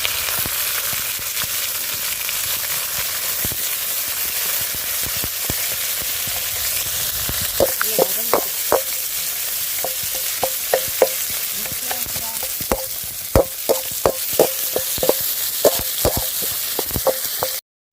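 Onions fry in a pan with green chillies for a Chettinad soya chunks pepper fry, a steady close sizzle broken partway through by repeated sharp scraping clicks as a spoon stirs them.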